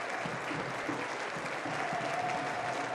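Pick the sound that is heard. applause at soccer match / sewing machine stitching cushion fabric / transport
applause at soccer match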